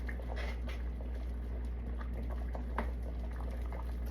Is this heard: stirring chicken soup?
yes